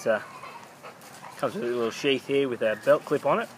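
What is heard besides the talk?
dogs barking in the background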